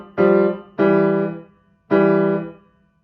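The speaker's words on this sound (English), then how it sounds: "So the last two measures in system number 2 will sound like this." Three piano notes or intervals from the last two measures of the second system of a piece, the first short, the next two held and decaying, played alone and clearly.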